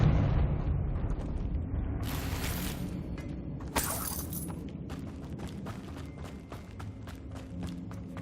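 Blasting-spell explosions and crumbling debris from a fantasy action game, with sharp bursts and clattering rubble over a steady rumbling background, one loud crack standing out midway.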